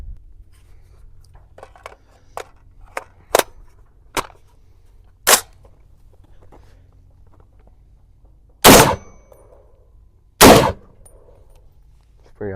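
Sharp cracks from a hunting rifle fired off a shooting tripod, several single shots spaced seconds apart with two loudest reports near the end, amid a quiet outdoor background.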